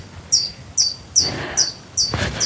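A bird calls outdoors in foggy mountains, repeating a sharp, bright chirp about every half second, fairly close and clear over quiet background noise.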